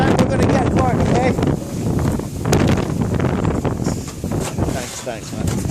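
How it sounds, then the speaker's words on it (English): Strong gusting wind buffets the microphone on a snowboard slope at Canada Olympic Park, a loud, rough low rumble that swells and eases throughout while a person talks over it. "And I know that the wind is fucked."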